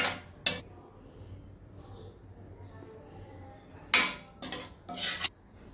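Metal utensils clink and scrape against a dish a few times as Thai red curry with coconut milk and vegetables is mixed into rice, with long quiet gaps between the sharp clatters.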